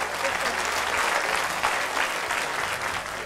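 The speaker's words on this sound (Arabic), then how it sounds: "تصفيق لي هادي" A children's TV show studio audience applauds for a young guest, a dense, steady burst of clapping close by.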